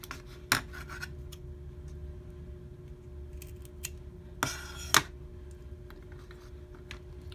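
Scissors snip through a yucca leaf in a few sharp, close cuts, isolated crisp clicks and a short crunching slice spaced over a quiet, steady background hum.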